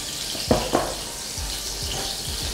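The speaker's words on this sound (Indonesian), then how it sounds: "langsung aja kita masukin ya cabenya. Kita tumis sampai layu ya" Chilies stir-frying in a hot pan give a steady broadband sizzle, with two sharp clatters of ingredients or a utensil near the start and soft stirring scrapes later.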